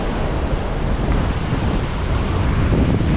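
Sea waves break and wash against a brittle, worn rocky shore at Bhandarpule beach near Ganpatipule, making a steady, loud roar of surf mixed with wind buffeting the microphone throughout.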